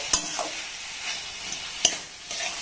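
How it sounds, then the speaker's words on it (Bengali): Coconut and sugar mixture stirred in a pan over a low flame, with a soft continuous sizzle and two sharp spoon scrapes against the pan, quiet and close, no voices. "আর এইভাবে কিন্তু কন্টিনিউ নাড়াচাড়া করতে হবে, নতুবা এই মিশ্রণটা একদম লাল হয়ে যাবে"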